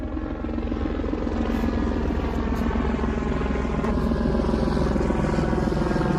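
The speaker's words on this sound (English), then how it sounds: "We got our own private helicopter." A helicopter flies low overhead, its rotor throbbing loud and close in a steady rhythmic chop that holds evenly throughout.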